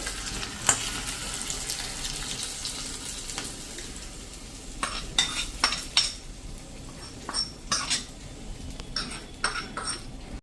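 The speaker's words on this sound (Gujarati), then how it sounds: "અને હવે આ વઘારને આપણે છોલેમાં જે બાઉલ સર્વ કરવામાં કાઢ્યું છે ને એમાં જ નાખી દઈએ." A hot tempering is poured into a serving bowl of chikori chole, giving a close, steady sizzle, followed by sharp clinks and scrapes of a spoon against metal utensils.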